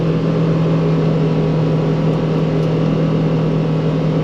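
A 2026 Polaris Xpedition ADV engine drones steadily at about 25 mph near 5,000 RPM, a loud, even hum with a constant low tone and no change in pitch, heard alone without speech.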